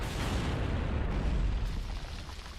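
A shot from a weapon in Gears of War 2 on the Jacinto map bursts into a loud, close explosion, a dense booming rumble that swells and then slowly fades.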